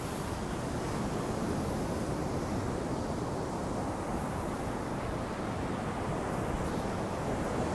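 Steady broadband wash of surf rolling in, continuous and fairly soft, with a breezy rush underneath and no voices.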